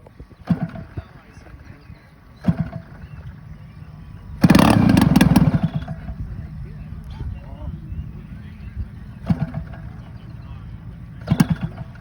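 A large radio-controlled model plane's engine at a fun-fly event bursts into a loud, rough roar for about a second, then drops back beneath scattered clatter and people talking nearby.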